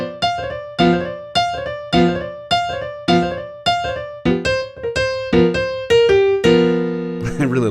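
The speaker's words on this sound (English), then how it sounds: "When you bring it up to about half speed, it sounds like this." Blues piano riff with a double roll played at about half speed, a steady groovy run of repeated struck chords and rolled notes, close and clear with no talking.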